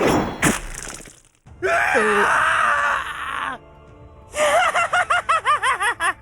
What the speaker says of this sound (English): A high screeching laugh cut the man's scream.